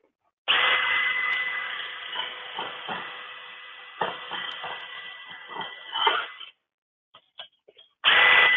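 A power tool grinds rust off a table saw's metal surface with a loud, steady, hissing whir that dips and surges as it bites, then cuts off, followed by a few faint clicks before it starts again.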